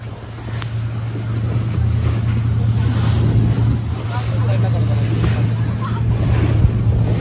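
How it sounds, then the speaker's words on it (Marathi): Ocean waves surge at a beach under strong wind, a loud, steady roar of surf with heavy gusts rumbling across the microphone and a faint low engine-like hum beneath. "आता आपण आलो इकडं बीचवर"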